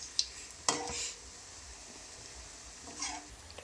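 Wheat flour bajji frying in hot oil as they are turned over, a soft steady sizzle broken by a few sharp clinks of a utensil against the pan, quiet and close.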